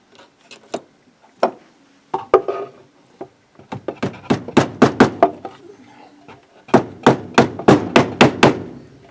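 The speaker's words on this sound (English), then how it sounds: "maybe I can use my regular hammer for that one" A hammer taps a part into a Philco Butterfly radio, a series of sharp, close knocks, first scattered and light, then in steady rapid bursts of harder blows.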